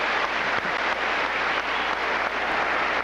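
A tennis crowd applauds a rally in a 1993 Volvo tournament match between Agassi and Tarango: steady, dense clapping from a large audience continues throughout, broad and fairly distant.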